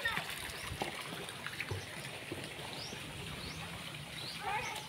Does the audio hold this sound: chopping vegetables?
no